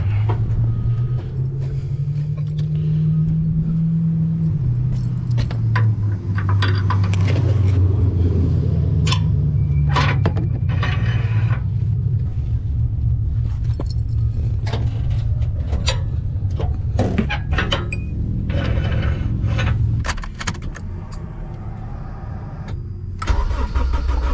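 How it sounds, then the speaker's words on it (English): A Cadillac CTS-V with over 600 horsepower runs on a dyno, its engine rumbling deep and loud with rising and falling revs, then settling toward idle, with sharp mechanical clicks and knocks scattered throughout. "As Geith is finishing up that CTSV on a dyno, I'm gonna pull the car off the dolly."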